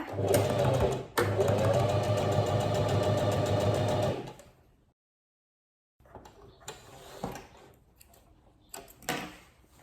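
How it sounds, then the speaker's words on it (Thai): A sewing machine stitches a fabric pants pocket close up. It runs at a loud, steady whir for about four seconds, falls silent, then returns in shorter, uneven bursts, with no talking. "แล้วก็นำไปเย็บ แล้วก็กลับด้านค่ะ เย็บพอติดนะ คะ"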